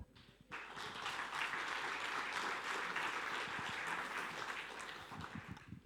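Conference audience applauding at the EBSCON 2024 opening, a dense sustained wash of hand clapping that starts abruptly after a brief quiet moment and stays steady and full, thinning slightly toward the end.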